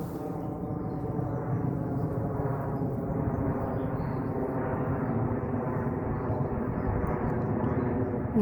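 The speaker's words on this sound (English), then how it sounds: "What's hearing that aeroplane, that sound?" An aeroplane passes overhead as a steady, broad engine drone that stays even and fairly loud throughout, with no voices.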